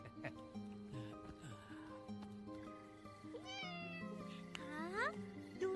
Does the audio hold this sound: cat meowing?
yes